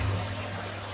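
Water from a pump pours steadily into a fish tank made from an IBC container in an outdoor garden, a continuous close trickling splash with a low pump hum beneath.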